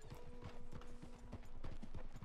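Horse hooves clip-clop at a steady walking pace in the video game Red Dead Redemption 2, close and clear over a faint droning background tone.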